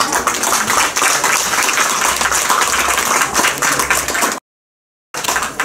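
Guests at a quinceañera party clap together in a sustained, loud round of applause, many hands going at once, broken by a brief silent gap near the end before the clapping resumes.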